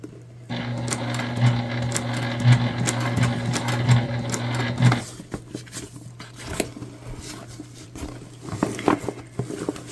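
Sewing machine top stitching a tote bag, a steady fast mechanical whir with a regular light thump for about four and a half seconds before stopping, then quiet handling and fabric rustles.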